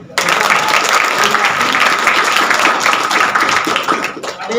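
A burst of audience applause, many hands clapping at once in a dense, steady roar that holds for several seconds before easing slightly.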